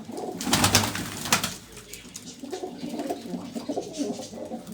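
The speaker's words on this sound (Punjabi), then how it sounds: "ਆਹ ਕਬੂਤਰਾਂ ਦਾ ਵੀ ਕਰ ਲਓ ਸ਼ੌਂਕ" Pigeons coo softly nearby in repeated low, throaty calls, with a few louder bursts early on and no talking.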